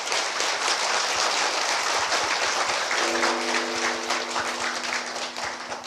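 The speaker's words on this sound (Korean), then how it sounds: "여러분 자신들을 위해서 박수 한번 치십시오." A congregation at a Buddhist weekend family service claps together in a dense, rain-like patter of many hands, steady and fairly loud, with a faint tonal hum appearing midway beneath the clapping.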